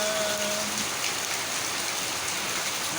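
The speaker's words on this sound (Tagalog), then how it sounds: "Patikim na rin ng ulan ang mga tanim, mga halaman." Steady rain falling on surfaces, a close continuous hiss of drops with a brief faint tone at the start.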